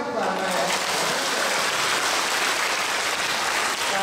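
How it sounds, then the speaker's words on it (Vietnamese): A church congregation at a parish Confirmation Mass led by a bishop breaks into sustained applause for the mothers, a dense, even wash of many hands clapping close and loud with no pauses, and faint speech mixed in. "Một tràng pháo tay cho các bà mẹ."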